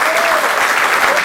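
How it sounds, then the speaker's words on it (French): Audience applauding loudly to welcome a guest on stage, a close, dense wash of clapping with a faint voice briefly audible beneath. "Nous allons accueillir par des applaudissements Djaïli Amadou Amal."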